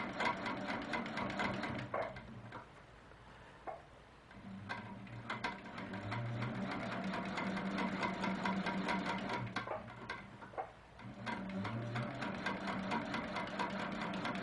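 A sewing machine runs steady straight-line quilting stitches, its rapid mechanical whir broken by short pauses as the fabric is repositioned, close and alone with no talk.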